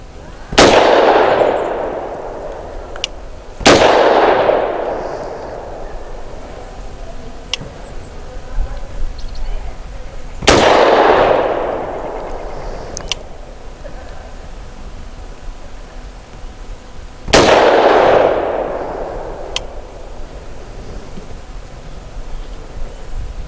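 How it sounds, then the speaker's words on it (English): Four sharp, loud shots from an old Vz CZ 52 pistol firing old ammunition at an outdoor range, spaced a few seconds apart, each with a decaying echo tail, plus a few fainter distant pops between them. "true test of my abilities is shooting an old gun with old ammo"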